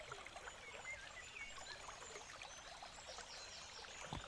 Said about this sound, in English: I'm hearing water and I'm hearing like birds